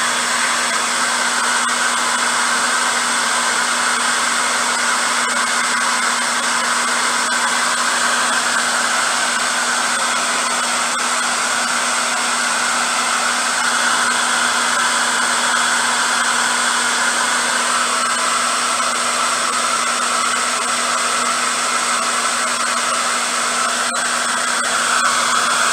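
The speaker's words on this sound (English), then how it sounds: "got to get my other heat gun. This one's too slow." A heat gun running on its high heat setting while working on a C4 Corvette, a loud, steady, unbroken blowing roar with a constant motor whine that holds at the same level for the whole stretch.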